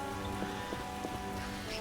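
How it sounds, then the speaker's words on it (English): Steady heavy rain hisses continuously with scattered droplet taps in The Witcher video game, a dense wash of downpour without any voices. "What a downpour!"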